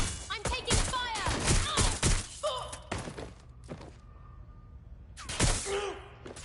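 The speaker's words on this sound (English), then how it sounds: "I'm taking fire!" Gunfire in a Watch Dogs Legion shootout, with several sharp bursts and thuds in quick succession over talk and game noise, followed by a quieter lull and then more shots.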